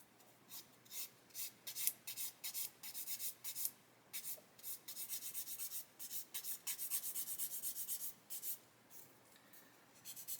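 Rapid rhythmic scratchy rubbing strokes, a sanding stick with worn-out grit scraping back and forth on a plastic part of an Airfix 1/48 Sea King model kit, close up and steady, with no talking.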